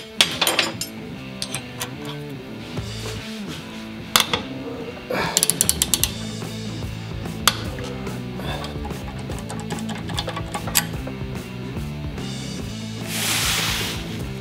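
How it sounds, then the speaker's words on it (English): A nut splitter tool is tightened so its wedge cuts into and splits a nut, giving irregular metallic clicks, ratcheting and sharp clanks scattered across the stretch, close and fairly loud, ending in a brief rushing scrape. "You can see the cutter on the bottom's already penetrating that nut pretty well."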